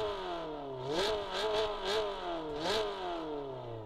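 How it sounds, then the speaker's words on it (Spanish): A Nissan Silvia S13 with free-flow exhaust in Assetto Corsa revs repeatedly, its engine note climbing and dropping in several sharp throttle blips with a raspy, buzzy tone, close and continuous. "Sonido escape libre de un Nissan Silvia S13, si no me equivoco."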